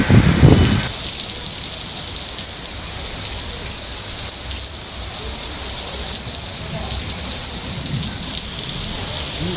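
Heavy rain pours across Hyderabad streets, a dense, steady hiss of downpour that opens with a brief louder burst and then holds an even, continuous roar for several seconds.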